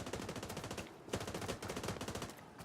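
Rapid automatic gunfire in The Division 2 game, a dense, steady stream of loud cracking shots with a brief pause midway before the burst resumes.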